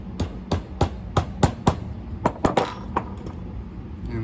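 A punch hammered against a pin in a Millers Falls 980 two-speed hand crank drill, a series of about ten sharp, ringing metallic taps at a steady, slightly uneven pace, close and clear with no talk.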